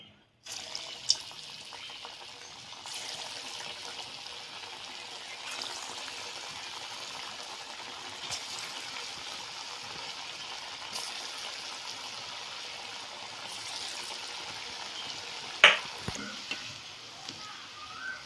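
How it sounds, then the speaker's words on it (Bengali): Raw banana koftas deep-frying in hot white oil in a kadai, a steady soft bubbling sizzle throughout with a few faint clinks, fairly quiet and without talk. "কড়াইতে আগে থেকে সাদা তেল গরম করতে দিয়েছিলাম তেলটা গরম হয়ে গেছে এবার কোপ্তাগুলো ভেজে নেব"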